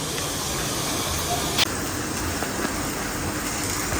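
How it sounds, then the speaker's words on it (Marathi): Cumin and onion tempering in hot oil for chole give off a steady, broadband sizzling hiss, close and continuous, with one brief sharper crackle partway through. "इथे मी फोडणी द्यायला सुरुवात केलेली आहे हे मी सारखं तेल टाकलं जिरे टाकले"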